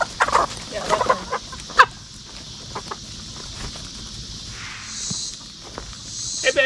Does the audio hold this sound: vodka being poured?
no